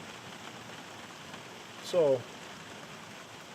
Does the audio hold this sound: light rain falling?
yes